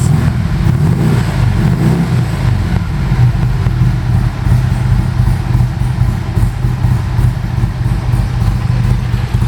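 A 1977 Harley-Davidson XL1000CR cafe racer in original condition with a Siamese exhaust runs steadily and loudly close by, a dense low rumble with slight rises in revs throughout.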